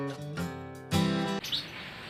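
Lovebird chicks give a series of close, bright chirps in short bursts, one longer and louder in the middle, then fade into a soft hiss.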